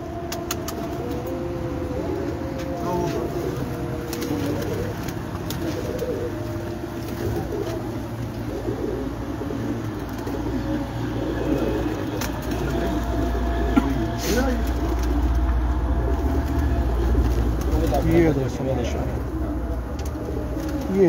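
Pigeons coo with low, rolling calls, alongside wing flutters from a flock of pigeons being flown from a rooftop in Dhanat Pura, Sheikhupura district, over a steady background rumble with occasional voices.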